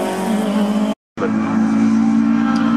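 Race cars roar loudly through a corner in front of a grandstand with tyres squealing as they slide sideways. The engine noise is steady, cut by a brief gap of silence before it resumes.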